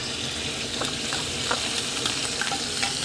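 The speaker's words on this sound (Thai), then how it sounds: "เอาหมูลงไปรวนให้สุกค่ะ" Minced pork stir-frying in hot oil for a Thai pork omelette, a loud unbroken sizzle with a few soft scrapes of the spatula scattered through it.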